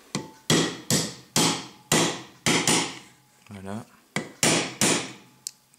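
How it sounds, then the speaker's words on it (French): A hammer gently taps a socket to seat a part in a Kärcher vacuum cleaner being repaired for weak suction, giving about nine sharp, ringing metallic strikes in a steady rhythm, close and loud, with a brief spoken word between them. "Avec le marteau, taper gentiment."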